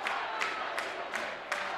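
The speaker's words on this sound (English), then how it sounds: "you can hear the crowd coming alive for Loogootee" A basketball crowd in a gym cheers for Loogootee against Greenwood Christian, with the student section roaring in a steady swell and rhythmic bursts that rise at regular intervals like chanting.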